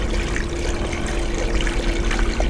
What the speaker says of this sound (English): we're gonna dump all this in the radiator and then fill this back up with water and then dump that in there too